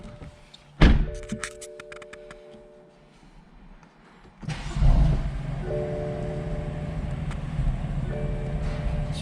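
A BMW M4 car door closes with a solid thunk, followed by quiet interior sounds, a soft double chime and the low hum of the car as someone settles inside.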